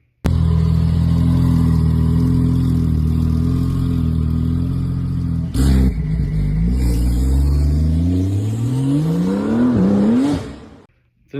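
A 2025 Porsche 911 engine runs loud and steady, close by. Partway through, the revs climb in one long rising sweep before it cuts off sharply at the end.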